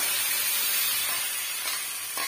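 Spiced tomato masala with turmeric sizzling and being stirred in a hot pan, a close, steady frying hiss with faint scrapes of the spoon near the end, no voices.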